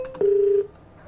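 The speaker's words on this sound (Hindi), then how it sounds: "फोन मिलाओ जी।" A single steady telephone keypad tone sounds for about half a second, clear and close, with a faint trace of voice just before it.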